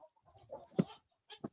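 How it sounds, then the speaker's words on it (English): Backyard chickens squabble in short bursts of clucks and squawks, fairly close and not very loud, with brief gaps between them. "My chickens are fighting."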